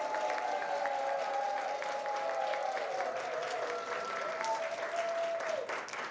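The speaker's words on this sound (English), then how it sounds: "would you give our chef, Bo, a warm Shepherd Village round of applause?" A village cooking show audience gives a warm welcoming round of applause for the chef, fairly soft and steady throughout, with a faint tonal hum running underneath.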